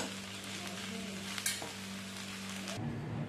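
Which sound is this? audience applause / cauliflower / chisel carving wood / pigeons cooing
cauliflower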